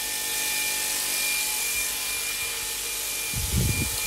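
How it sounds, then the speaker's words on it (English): A PM30-MV milling machine spindle runs with the air supply on, giving a steady, dense whirring hiss with a faint tonal whine throughout and a brief low thump near the end. "I'll go manually turn on my spindle"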